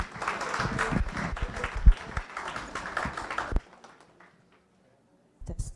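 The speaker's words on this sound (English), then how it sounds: "Can we get a huge round of applause for our debater?" Scattered audience clapping for a debater at an educational leadership event runs loud and uneven for a few seconds with some heavy thumps, then stops abruptly into near silence before a brief noise at the end.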